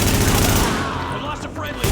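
In The Division video game, rapid automatic gunfire rattles loud and close in a dense burst, with shouted commands from soldiers over the firing.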